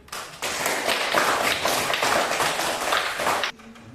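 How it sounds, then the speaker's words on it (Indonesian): Schoolchildren in a classroom clap for a classmate, a lively burst of many hands that starts abruptly, holds at an even loudness for about three seconds, then cuts off sharply. "kita tepuk tangan untuk Ubi dulu"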